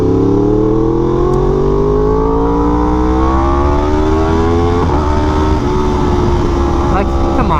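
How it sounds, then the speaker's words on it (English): A Yamaha R1M motorcycle fitted with a Toast exhaust revs loud and close, its rising engine note climbing steadily before a brief dip and another build, with a deep rumble underneath throughout. "listen to that engine. The beautiful Toast exhaust."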